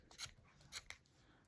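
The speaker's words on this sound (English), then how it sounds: "then you just snip all the way" Blunt scissors snip through yarn wound on a Clover pom pom maker, producing a few quiet, crisp cuts close by, spaced irregularly, with no one talking.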